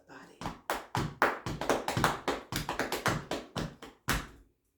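Hambone body percussion, hands rhythmically slapping and tapping on the body and clapping, a steady series of sharp close hits in a driving pattern, performed alone.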